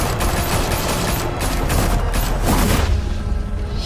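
Rapid bursts of automatic gunfire with booms in the Batman Telltale Series video game, loud and dense, continuous volleys that thin out toward the end.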